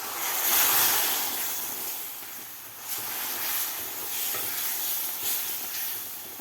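Sugar water being added a little at a time to hot mung dal halwa, giving a steady broadband sizzle and hiss that swells early, then continues evenly with small surges and no talk.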